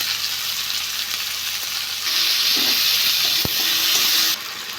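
Tomato and ginger paste with salt frying in oil, a close, steady hiss that swells louder partway through, with one sharp tap against the pan and a sudden drop in level near the end; no one speaks.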